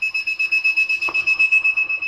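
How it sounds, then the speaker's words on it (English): A loud electronic buzzer driven by an LPC1768 microcontroller beeps in rapid, even pulses, about eight per second, shrill and close, with no one speaking. "This is a buzzer which is connected"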